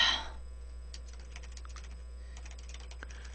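Someone typing on a computer keyboard, a sparse series of light, quick key clicks at close range following a brief louder noise at the start, with no one talking.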